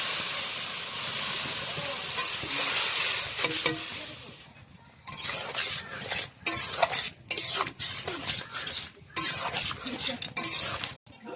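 A spatula scrapes and stirs cumin, ground coriander and chili powder in a hot frying pan, first under a loud steady sizzle, then as repeated scraping strokes with short pauses between them.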